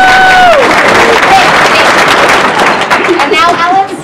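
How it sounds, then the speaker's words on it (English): Loud, sustained audience applause at a high school humanities play, a dense wash of clapping with a few whistles and whoops rising over it before it starts to fade at the end. "I order you to applaud."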